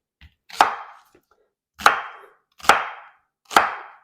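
A knife chops through an onion on a cutting board in four sharp, separate thuds with pauses between them, close and clear with no talking.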